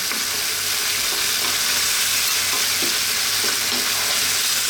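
Tomato and mushroom pasta sauce with bell pepper simmering in a pan on low heat, a steady, loud, continuous hiss and sizzle with faint bubbling pops, no voices.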